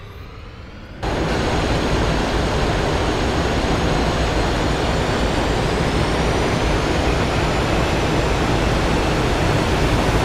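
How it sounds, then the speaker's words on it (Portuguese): A loud, steady roar of military jet engines in a flight simulator, heard with the canopy open, fills nearly the whole clip after a sudden jump in volume, a broad unbroken rushing drone. "está com o canopy aberto para captar o som das outras aeronaves"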